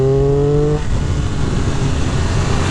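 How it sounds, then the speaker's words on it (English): A 2023 Triumph Speed Triple RR 1200cc three-cylinder motorcycle revs loud and close, its engine note holding high before dropping off abruptly into a rough, rumbling lower drone. "You gotta love the sound of a triple."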